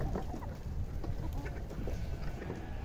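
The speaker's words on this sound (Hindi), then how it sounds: "ये देखें मेरे पीछे पीछे आ रही हैं पूरी मुर्गियाँ।" Hens and roosters at a small backyard mini zoo cluck in a dense, continuous chorus at feeding time, close by and fairly loud, with overlapping calls and no voices.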